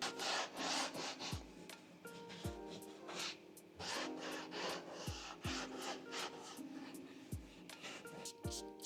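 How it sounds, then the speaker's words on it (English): A microfiber cloth wipes ceramic coating overspray from a new car's interior, giving repeated soft rubbing strokes, close and fairly quiet, with occasional light knocks in between. "Now I'm assuming that any of this overspray I can just wipe up with a microfiber."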